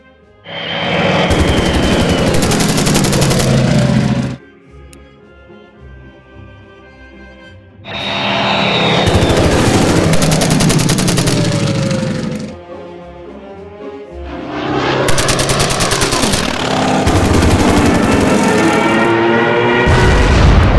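Anti-aircraft gunfire rattles at a bomber in the WW2 strategy game Order of Battle, three long, loud stretches of dense, booming fire broken by brief quieter gaps.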